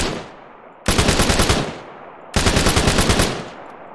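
A 417 rifle from an Australian Army mod for the ArmA 3 video game fires in two loud bursts of rapid shots, each burst followed by a trailing echo, with no voices.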